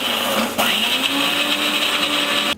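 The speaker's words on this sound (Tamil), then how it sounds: "இப்போ நம்ம இதை மிக்ஸி ஜார்லேருந்து அரைச்சி எடுத்துக்கலாம்." A mixer grinder whirs loudly and steadily as it grinds coriander seed chutney, its motor pitch shifting briefly as the load changes partway through.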